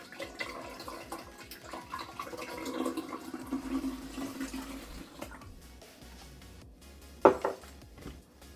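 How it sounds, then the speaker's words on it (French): Water poured into a pitcher of sugar and freshly squeezed lemon juice for homemade lemonade, a steady splashing pour with a louder splash near the end. "And add water."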